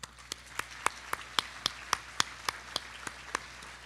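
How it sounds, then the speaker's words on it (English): Sparse, evenly spaced claps ring out at a scholarship celebration in Wenatchee honoring donors, about a dozen sharp individual hand claps in a steady rhythm, fairly quiet and without voices. "Let's give them all a round of applause."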